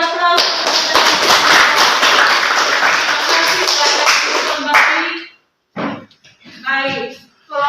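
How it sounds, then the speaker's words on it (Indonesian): Dense, loud applause from a class of students in a junior high school classroom, with rapid overlapping claps for about five seconds before stopping abruptly; short bursts of voices follow. "Oke, beri aplaus."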